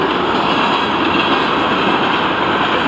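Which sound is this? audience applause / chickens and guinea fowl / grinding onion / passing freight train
passing freight train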